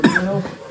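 A single sharp cough, close and loud, made by a traveller eating a simple meal of rice, dal and cauliflower in a small snowbound village; the burst fades into a short rough trailing breath.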